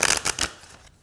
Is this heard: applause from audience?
no